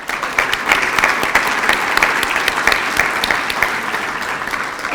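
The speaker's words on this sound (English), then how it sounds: "Another round of applause." Sustained audience applause at a banquet, dense clapping from many hands filling the room, steady and loud without a break.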